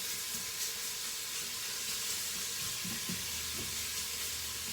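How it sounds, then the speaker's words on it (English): Steady broadband sizzle of bacon frying in a pan, a constant crackling hiss with a few soft clinks and low kitchen rumbles underneath. "I have this bacon starting to sizzle up"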